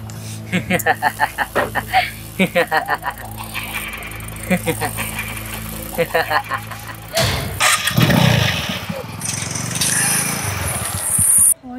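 A motorcycle is cranked over and over in rhythmic sputtering bursts before the engine catches and revs up loudly, with voices around it.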